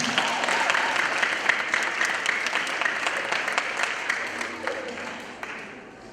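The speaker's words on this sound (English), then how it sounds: "Please give her a round of applause." A school leadership day assembly applauds a student as she comes up to speak: a dense, steady patter of many hands clapping that gradually fades over several seconds, with no talk over it.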